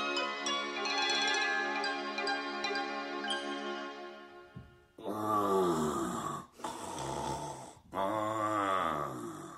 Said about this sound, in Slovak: Šarkan chrápe, ako by drevo pílil.